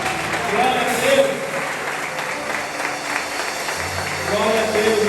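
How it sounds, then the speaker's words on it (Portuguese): A church congregation claps through a worship service, a continuous patter of applause mixed with voices talking and calling out over it. "aplauda ao Senhor, irmão"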